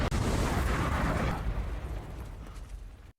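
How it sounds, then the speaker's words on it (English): A sudden movie explosion opens with a loud, broad roaring blast, then rumbles and decays over about three seconds into fading debris noise. "an explosion suddenly kills Rosa"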